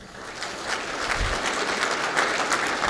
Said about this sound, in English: Please welcome me in giving ourselves a round of applause